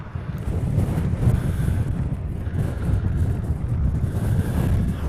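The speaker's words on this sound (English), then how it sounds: "Ooh, and a lot of wind down here." Strong wind buffets the microphone at a planespotting spot by Honolulu airport in Hawaii, a loud, steady low roar with gusty swells throughout and no voices.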